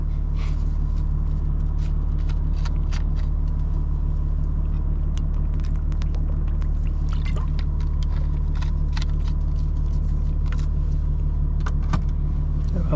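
A tuned 900 hp 2025 BMW M4 Competition xDrive driven at night, heard from inside the cabin as a steady, loud low engine drone and road rumble, with scattered sharp ticks and clicks over the top.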